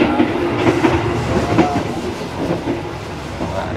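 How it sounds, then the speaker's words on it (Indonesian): An Indonesian Gaya Baru Malam Selatan economy-class passenger train rumbles steadily along the tracks with a continuous, close rolling noise and faint rhythmic clacking, heard from inside a moving carriage while walking the aisle toward the dining car. "Harus hati-hati jalan di lorong pas kereta berangkat. Pas kereta lewat gini."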